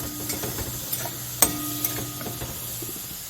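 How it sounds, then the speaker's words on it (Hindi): Dal and tomato chutney cook in a pan with a soft, close sizzle while a spoon stirs and scrapes. A sharp clink stands out midway through, and no one talks. "ये दाल बन रही है और ये टमाटर की चटनी।"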